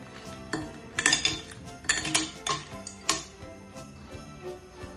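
Ice cubes clink and knock into a glass while sangria is being made with fruit juice and lemon wedges, a cluster of bright, close clinks in the first three seconds, then quieter rattles.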